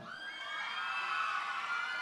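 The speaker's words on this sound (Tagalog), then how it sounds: "Palakpakan hiyawan" A fiesta crowd at a San Isidro Labrador celebration whoops and shouts in a sustained, rising roar of cheering voices, heard at a middle distance without distinct clapping.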